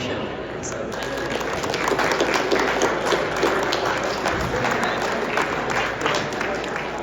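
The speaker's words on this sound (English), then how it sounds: "So I'd like to give Michael just a round of applause for welcome for his service to the nation." An alumni reception audience gives a round of applause welcoming Michael, a fairly loud, continuous patter of many hands with some murmuring mixed in.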